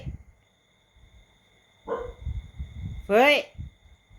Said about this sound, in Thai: เห่าอะไรนะมาเร็ว